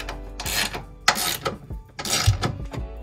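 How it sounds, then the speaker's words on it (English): A hand ratchet clicks in short bursts while tightening a large 17 mm nut on a car's caster/camber plate, the uneven clicking and rubbing close to the microphone with no speech. "we're gonna go ahead and tighten just this big 17 millimeter nut"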